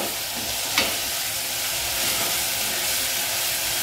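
Whole spices hit hot oil with browned onions in a pan for vegetable pulao, giving a steady, even sizzle with one brief clink of a utensil early on.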